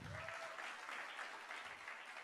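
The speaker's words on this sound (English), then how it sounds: "Another round of applause for Gado." Steady audience applause at an International Animation Day 2025 event, a dense, continuous wash of clapping that holds evenly throughout at a moderate distance.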